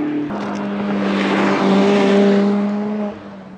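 A Mazda Miata fitted with headers and an HKS muffler revs close by, a loud raspy exhaust note that climbs and holds with sharp harmonic tones before dropping off near the end, with no talking.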